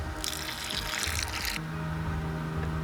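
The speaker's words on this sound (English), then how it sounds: "Let's pour out the surface water." Surface water pours out of a tilted bucket of settled clay, a steady splashing gush that runs for over a second and then gives way to a quieter trickle, close by with no talk.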